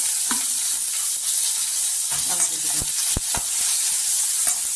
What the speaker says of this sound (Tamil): அடுத்து பெரிய வெங்காயம் போட்டு